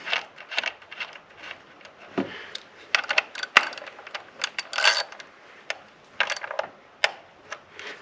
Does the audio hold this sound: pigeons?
no